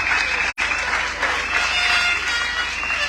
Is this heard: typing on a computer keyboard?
no